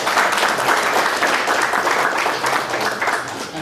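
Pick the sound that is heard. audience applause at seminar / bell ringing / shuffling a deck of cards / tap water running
audience applause at seminar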